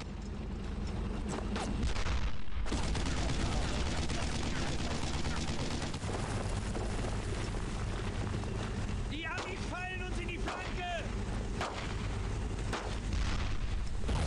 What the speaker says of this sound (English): that fucking MG from over there stopped shooting at us